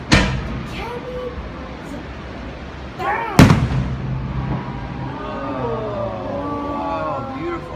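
Fireworks on a beach burst with one sharp, loud boom amid scattered softer pops and crackles, while voices exclaim and chatter throughout.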